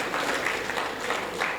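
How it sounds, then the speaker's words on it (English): Steady applause from a crowd, dense and even throughout, moderately loud and close. "please put your hands together now"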